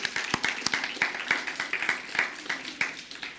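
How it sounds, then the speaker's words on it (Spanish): A church congregation applauding, dense rapid clapping from many hands, steady and lively throughout at close range. "Esposos, ahora denles un aplauso fuerte al Señor."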